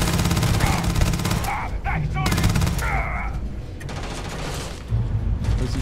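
Bursts of gunfire ring out in the Starfield video game, repeated shots mixed with combat effects and game music at steady loudness, while people talk over the action.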